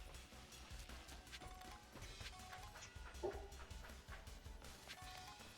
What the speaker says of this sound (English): I guess those dogs are really loud.